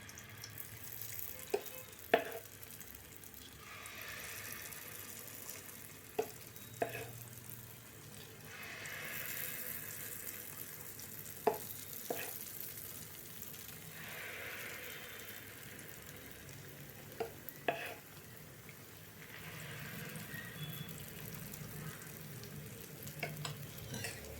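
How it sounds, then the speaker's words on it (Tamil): Sweet bonda batter dropped spoon by spoon into hot oil in a pan, a continuous soft sizzle with recurring sharp clicks and scrapes of the spoon every few seconds, close and fairly quiet. "இப்போ வந்து கொஞ்சம் கொஞ்சமாக மாவு போட்டுக்கலாம்"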